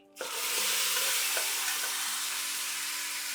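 A sudden loud sizzle erupts as a smashed ingredient for idli sambar hits hot oil, then settles into steady, hissing frying that continues close by.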